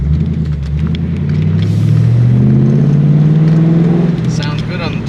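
A 1999 Ford Mustang GT takes a turn with a loud, close engine drone. The pitch rises gradually as it pulls through the bend, over a low rumble from the road.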